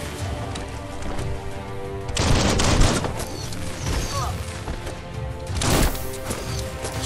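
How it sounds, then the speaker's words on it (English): Gunfire fills a Biomutant battle, a dense rattle of shots over a steady game score, with two heavier bursts of impacts and explosions standing out. "Bullets everywhere."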